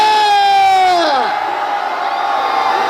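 One voice's drawn-out falling shout gives way to a sustained massed roar from a political rally crowd outside the Lotte Hotel in Busan, loud and unbroken.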